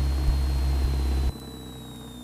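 Light aircraft engine droning loudly at steady power, then dropping sharply to a quieter, lower throttled-back hum of about 1500 RPM, with a faint steady whine continuing throughout.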